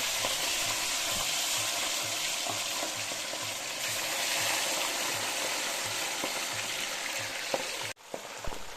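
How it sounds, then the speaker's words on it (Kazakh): Carp fish fry in very hot oil, giving a dense, continuous sizzle and crackle with a faint regular ticking underneath, ending in a brief break and a few spatters. "Майымызды жақсылап қатты қыздырып, балығымызды қуырып бастаймыз."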